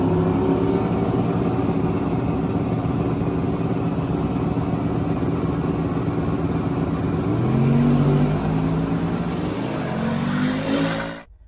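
Drag car engine revving hard near 3,900 RPM while its turbo spools up slowly, a loud, steady drone with rising tonal whine toward the end before it cuts off abruptly.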